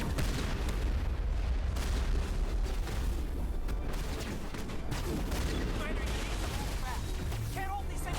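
Sustained suppressing fire in Mass Effect, a dense, continuous crackle of gunshots and booming impacts that runs for several seconds at a moderate level, with voices talking through it.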